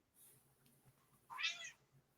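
A cat gives a single short meow, fairly clear against an otherwise quiet background.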